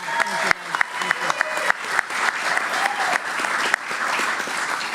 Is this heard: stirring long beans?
no